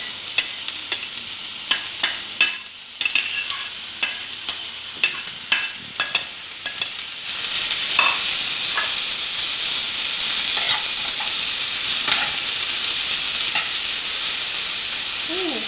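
Oil fries in a small saucepan. First come several sharp clanks and stirring knocks, then a loud, steady hiss of sizzling with occasional pops, close by and with no talking.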